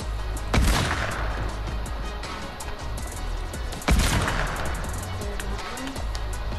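Gunfire in the Fortnite video game, two loud broadband shot bursts about three seconds apart over a dense, busy game soundscape, with no talk.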